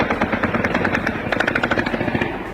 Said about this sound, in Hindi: ऑडियो में दनादन सुनाई देती गोलियों की आवाज ने उस सन्नाटे में उतना ही शोर मचा दिया